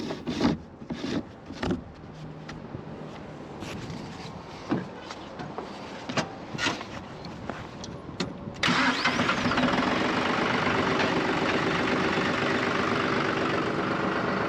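A tractor with a partly filled sap tank on its back axle runs amid scattered knocks and clatter, then its engine roars up into a steady, loud drone that carries on to the end.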